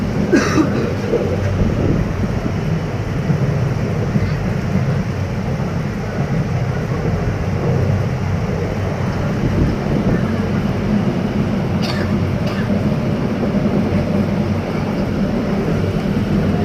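Steady low rumble and rattle of a moving passenger train heard from inside the carriage on the Cox's Bazar Express in Bangladesh, continuous and fairly loud throughout with wind noise and a few brief clatters.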